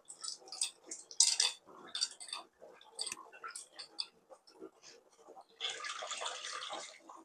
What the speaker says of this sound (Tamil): இப்போ புளி கரைசலை ஊற்றிடலாம்.